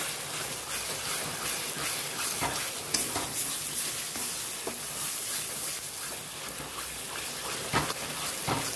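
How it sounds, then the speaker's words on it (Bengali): Spice masala of ginger, garlic, onion, cumin and black pepper powder fries in a pan while being stirred, making a dense, continuous sizzle with soft scraping surges throughout. "ভালো করে মশলাটা কষালে যত কষাবে তত টেস্ট হবে।"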